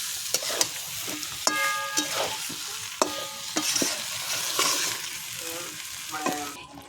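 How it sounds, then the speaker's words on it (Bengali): Cumin seeds and bay leaves sizzle in hot frying oil for a Bengali home-cooked dish, a steady close crackle broken by repeated sharp clinks and scrapes of a spatula stirring in the pan. "আর জিরে তেজপাতা সম্বাদ দিয়েছি।"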